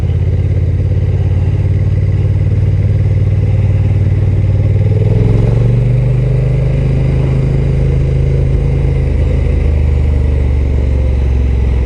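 Steady, loud thrum of a Honda NT1100 DCT twin-cylinder motorcycle engine while riding, holding a low pulsing note that rises and settles as the throttle changes, with wind rush.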